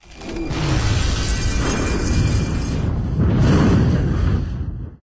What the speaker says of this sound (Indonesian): usai ledakan tersebut